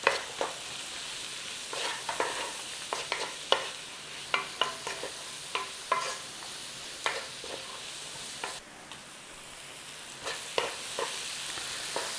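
Onions frying in a pan for a curried sausage pie hold a soft, continuous sizzle, broken by regular scraping strokes from stirring that repeat about once a second, close by and without speech.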